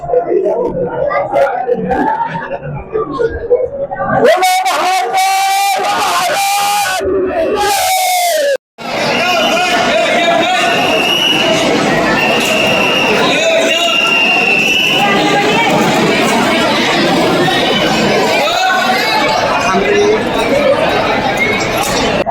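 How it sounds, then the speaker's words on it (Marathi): A dense crowd of devotees at Mahakaleshwar temple in Ujjain fills the space with loud, continuous chatter, shouts and chanting-like cries. A harsh burst near the middle briefly breaks the din before the crowd noise resumes and holds steady. "गर्दी."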